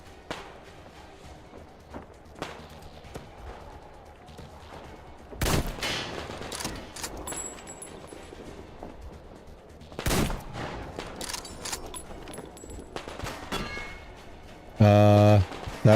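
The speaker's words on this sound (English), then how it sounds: "Let them shoot at that." Enemy gunfire in the first-person shooter Metro: Exodus: scattered distant shots and thumps build into loud bursts of rapid fire at two points, then a harsh blaring burst near the end.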